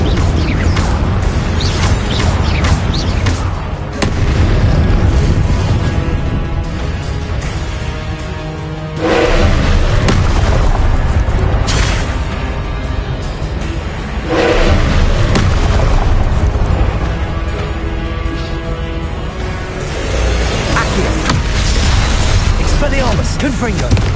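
Confringo blasting spells explode repeatedly in the Hogwarts Legacy video game, with loud, dense booms and crashing bursts one after another in a sustained barrage, and spoken spell incantations and game effects mixed in.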